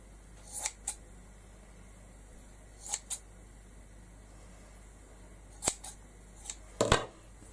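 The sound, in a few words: scissors cutting cheesecloth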